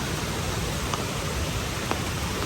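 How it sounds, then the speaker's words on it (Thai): The waterfall at Tad Kaeng Yui in Vang Vieng, Laos, gives a steady, dense roar of falling water that holds without pause and carries no voices. "น้ำตก"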